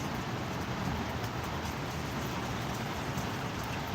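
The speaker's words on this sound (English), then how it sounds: "The sound of the highway, the sound of the rain and wind." Rain and wind on the Lake Ontario shore in Toronto during a storm, with a highway nearby, give a constant, close, dense hiss of falling rain and gusts without any talking.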